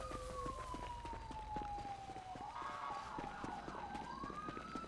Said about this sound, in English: Yeah, I hear their fucking sirens.